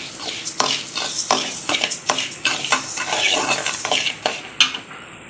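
Rice is dry-roasted and stirred in a pan for kali, a steady sizzle broken by repeated rhythmic scraping strokes of a spoon against the metal, loud and close with no talk.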